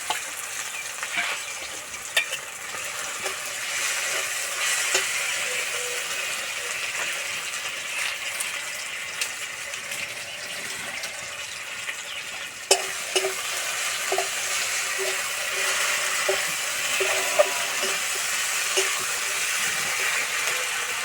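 Spice paste sizzles steadily in a hot pan for masala bori, a constant frying hiss broken by occasional scrapes and clicks of stirring, with no talk.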